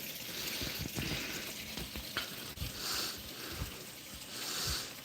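E85 fuel pours out of a car's fuel system into a container, a steady splashing, gurgling flow that swells and eases in waves, with no one talking.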